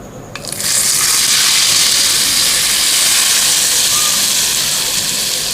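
Hot spice tempering hits yogurt for a Bengali doi curry, bursting into a loud, steady, steamy sizzle and hiss after a brief quiet start, holding strong for several seconds, close and alone.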